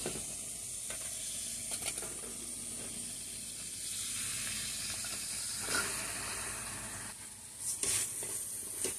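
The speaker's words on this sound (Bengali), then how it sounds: "এই মশলার সঙ্গে এখন আমি কচুর লতিগুলো দিয়ে কষিয়ে নিব" Taro stolons sautéing in spice paste for a hilsa fish curry, a continuous close sizzle and steamy hiss broken by several scraping stirs of the spoon.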